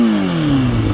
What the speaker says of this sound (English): when you rev it up like that, it sounds absolutely awesome